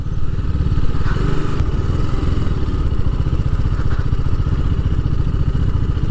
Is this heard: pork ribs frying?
no